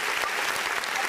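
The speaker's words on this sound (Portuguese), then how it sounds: "Uma salva de palmas!" A studio audience claps in dense, steady applause throughout, a continuous close wash of many hands with no pauses.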